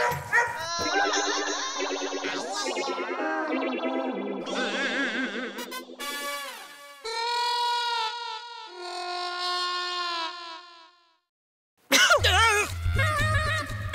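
A dog's yips and whimpering barks, heavily processed with electronic effects, run in bursts with a brief silence before a loud, distorted final burst.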